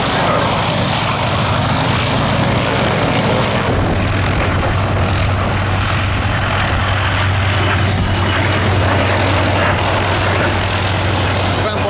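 A de Havilland Vampire jet flies at an airshow at Little Gransden, its engine a loud, continuous roar that holds steady throughout, with a deep low hum growing stronger partway through.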